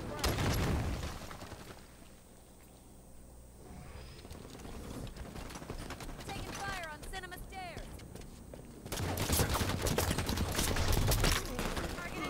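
Gunfire from Halo 5 Team Arena multiplayer, bursts of rapid shots and weapon effects at the start and louder near the end, with a player talking over the game audio.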